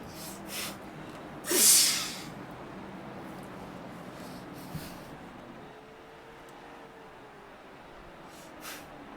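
One sharp, breathy burst like a sneeze or snort erupts near the start over a steady background hum, then the noise settles, during a late model race broadcast at Martinsville Speedway.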